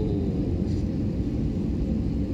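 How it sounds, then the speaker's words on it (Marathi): A passenger plane descending to land at an airport, heard from inside the cabin as a steady, loud, low engine and airflow rumble with no distinct events. "एअरपोर्टच्या खूप जवळ आणि विमान आता उतरणार आहे."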